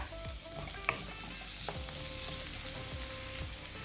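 Chopped onion and green chillies frying in a pan, a steady close hiss of oil broken by a few sharp scrapes and taps of a spoon, with no voices.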